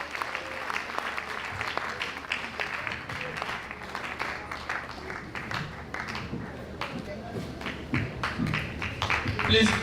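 Crowd applause and clapping at a university College of Education conference opening in Calabar, Nigeria, dense and continuous with scattered louder claps and some voices mixed in.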